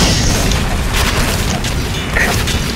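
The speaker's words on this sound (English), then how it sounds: "rocket jumping is pretty hard" Roblox Typical Colors 2 rocket jump explosion, a booming blast blending into a loud, dense rumble of game noise that stays heavy across the whole short stretch.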